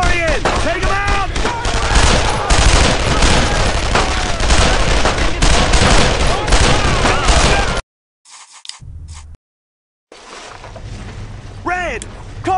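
Rapid bursts of rifle and machine-gun fire crackle in a World War II shooter, Brothers in Arms: Road to Hill 30, loud and dense for several seconds before cutting out, then quieter shots return amid shouted battlefield voices.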